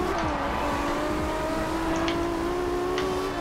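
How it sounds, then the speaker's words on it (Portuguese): A Toyota Supra's turbo engine revs hard in Forza Horizon 2, a loud continuous drone with a steady rising pitch and faint tire noise, no voices over it. "Vamos com o som"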